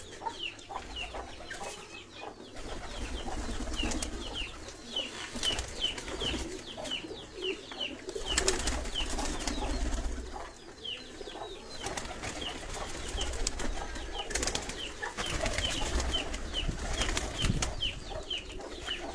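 Teddy pigeons, a mix of young birds and adults, coo and flutter their wings inside a loft in Sialkot, making a steady, busy stream of soft calls and wingbeats with no talking.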